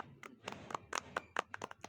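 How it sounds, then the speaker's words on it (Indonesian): A small podcast audience claps hands faintly and sparsely, a handful of distinct, separate claps spread unevenly over a couple of seconds in a quiet room. "Kita tepuk tangan dulu."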